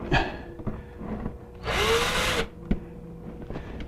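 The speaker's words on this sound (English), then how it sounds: "I'm just going to grab my drill and screw straight back in place here" A power drill whirs in a short burst, driving a screw to fix a shelf background in an aquarium or reptile enclosure, with a few knocks and scrapes of handling before and after.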